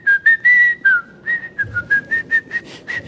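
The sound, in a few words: man whistling, imitating whistling during ablution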